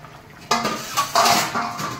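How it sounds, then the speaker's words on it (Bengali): Catfish pieces eased one by one into a pot of simmering curry with boiled potatoes, heard as a few close clinks and scrapes of utensil against the pot over a soft bubbling background. "এবারে আমি এই মাগুর মাছগুলো ছেড়ে দেবো আস্তে আস্তে"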